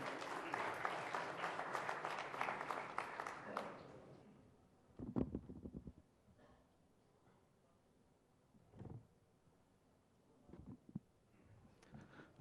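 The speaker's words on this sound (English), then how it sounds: "let's give them a warm round of applause before we begin" A conference crowd at the India Today Conclave 2023 business session breaks into warm applause, loud and dense for several seconds before tapering off into a quiet hall with only scattered faint sounds.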